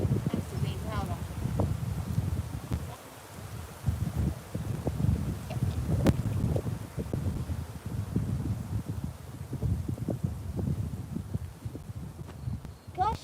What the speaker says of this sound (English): Gosh, the wind is crazy today.